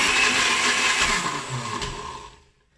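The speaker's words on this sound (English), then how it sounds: "I'm gonna use my NutriBullet blender." A NutriBullet blender whirs loudly while blending pumpkin flesh until smooth, a dense steady motor roar that holds for about two seconds and then winds down to silence.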